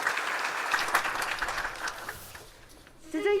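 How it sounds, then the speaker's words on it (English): An audience at a children's peace summit gives a round of applause that fades out after a few seconds, followed by a voice speaking briefly at the end. "Please give him a round of applause,"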